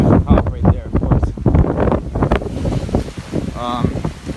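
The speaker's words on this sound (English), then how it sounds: "But it's windy." Strong wind buffets the microphone on a Miami street just before Hurricane Irma, with flooding nearby; loud, steady gusty rumble runs throughout beneath someone talking close to the mic.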